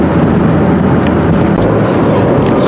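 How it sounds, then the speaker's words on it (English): A tuned car engine runs steadily while turbo boost builds, giving a loud, continuous low drone with a rising whoosh over a few seconds and no speech. "So you can hear boost starting to build on."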